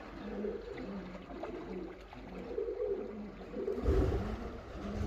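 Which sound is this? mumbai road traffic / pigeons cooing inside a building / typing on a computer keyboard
pigeons cooing inside a building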